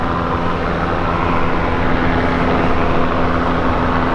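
Helicopters flying near a courthouse produce a loud, steady, broadband rotor drone with a constant low hum throughout, continuous and unbroken.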